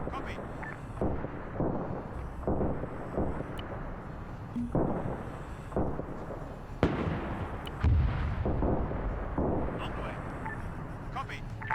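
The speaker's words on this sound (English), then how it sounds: "They're all trying to shoot at the commander in the tank." Gunfire and artillery in a 1948 Arab-Israeli war video game, with fighters firing on a commander's tank: repeated sharp blasts and bursts throughout, under steady voices talking.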